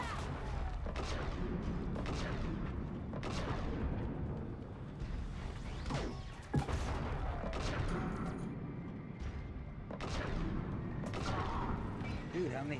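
Rapid bursts of gunfire from the video game Mass Effect crackle repeatedly across the stretch, with sharp shots and blasts layered over a constant busy game soundscape while a voice talks throughout.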